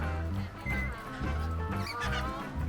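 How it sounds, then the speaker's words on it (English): A duck quacks in repeated short, nasal calls at Barnhill Nature Preserve in Ethel, Louisiana, during a pumpkin patch outing, with some nearby talk in the background. "That's a duck. It's a duck."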